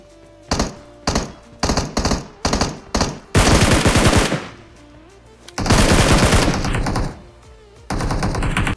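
Gunfire in the mobile battle royale game Battlegrounds Mobile India: several short bursts of loud automatic fire, then two longer sustained volleys separated by brief pauses, with no talking.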